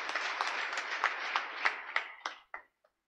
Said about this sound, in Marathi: एकदा जोरदार टाळ्या त्यांच्यासाठी एकदा होऊन जाऊ द्या